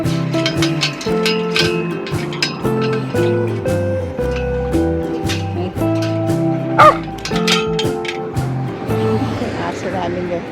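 A dog yips and barks excitedly again and again in a park in Israel, mixed with voices and other busy background sound.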